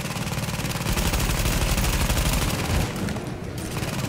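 Rapid sustained gunfire rattles in The Division video game, a dense loud burst of automatic shots that briefly thins out before resuming, with no voices over it.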